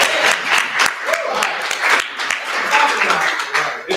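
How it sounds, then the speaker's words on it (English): Audience applause in a workshop setting, a dense, steady burst of many hands clapping at close range, with voices mixed into the crowd noise. "Give her another clap. Give her another clap."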